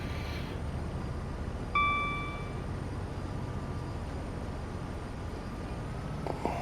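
A Class 66 diesel locomotive engine in the Train Sim World 3 game gives a steady low rumble throughout, with a short bright chime ringing out early on.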